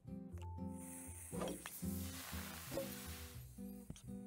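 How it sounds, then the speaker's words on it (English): Food frying in the Moonglow Bay video game, a soft hissing sizzle with bright spitting bursts over a low musical background, no talking. "Fry it up."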